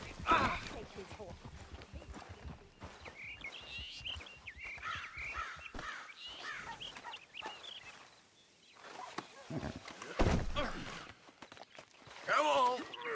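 Horse hooves clip-clop on a dirt trail in the western video game Red Dead Redemption, uneven and mid-distance, mixed with rustling footsteps, bird calls and characters speaking over them.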